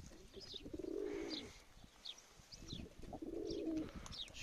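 Newly bought posta pigeons coo close by in two low, throaty bursts separated by a pause, with a few faint chirps and soft wing flutters in between.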